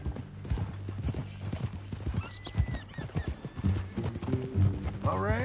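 Horse hooves clip-clop in the game Horizon Zero Dawn, a steady patter of clops running through the scene with a brief whinny near the end, mixed under a low musical drone and background game sounds.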